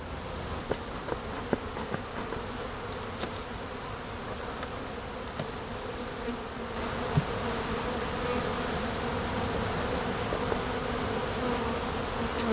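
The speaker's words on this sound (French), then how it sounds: "Si c'est des abeilles des autres colonies, elles viennent piller cette ruche-là." A dense, continuous buzz of honeybees from other colonies robbing a hive, steady and close, with a few faint clicks and no talking.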